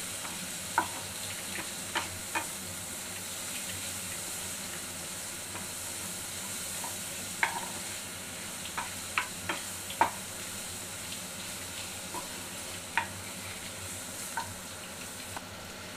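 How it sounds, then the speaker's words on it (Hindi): Paneer samosa filling with coriander is stirred in a pan over a soft, steady sizzle, with scattered light scrapes and taps of a spoon against the metal, fairly quiet and without talk. "और अब हम इसको अच्छी तरह से मिक्स कर लेंगे।"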